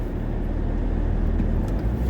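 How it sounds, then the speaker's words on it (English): Range Rover L322 TD6 with the BMW M57 3-litre diesel engine on the road, a steady low engine drone and road rumble heard from inside the cabin, continuous and even throughout. "this M57 BMW 3-litre lump sounds really well"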